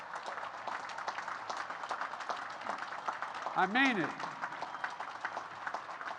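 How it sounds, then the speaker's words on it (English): Midshipmen applauding at a naval academy graduation ceremony, a broad sustained clapping crowd under a speaker's amplified voice, with a brief whoop or whistle rising over the applause midway. "So midshipmen, stand up and clap for them."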